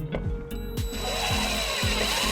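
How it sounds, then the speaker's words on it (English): A power drill drives a 1/4-inch tap screw into a flat surface on a 2012 Dodge Journey during a wiring harness install. The close, loud whir rises and falls in pitch as the motor surges repeatedly. "we're going to take our 1/4-inch tap screw, and we're going to just drill it on this flat surface"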